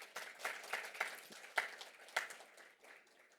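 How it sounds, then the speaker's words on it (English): Scattered applause at a conference on power grids for presenters: a thin round of individual claps, irregular and sparse, tapering off quietly. "Maybe we can give another round of applause for all our presenters."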